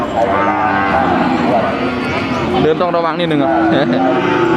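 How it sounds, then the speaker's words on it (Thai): Thai cattle at a crowded livestock market give several loud, drawn-out moos close by, overlapping as someone speaks among the herd. "วัวเยอะมากครับวันนี้"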